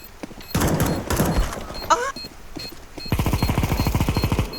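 Automatic gunfire from a weapon in an online shooter game, with two long rapid bursts near the start and a second dense rhythmic volley at the end, loud and close, with a short electronic chime between them.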